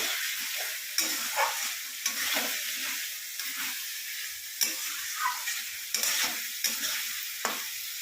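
Steady sizzling of potatoes and spices frying in a pan, with a spatula repeatedly scraping and stirring at an irregular rhythm, close and fairly loud.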